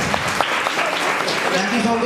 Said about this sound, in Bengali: একটু হাততালি দেবে সবাই।